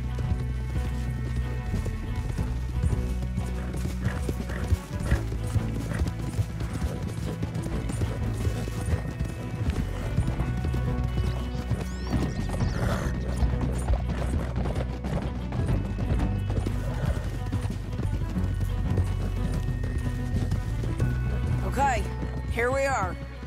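Horse hooves clop in a steady rhythm while riding in Red Dead Redemption 2, running under a game soundtrack and ambient effects throughout, with occasional louder knocks.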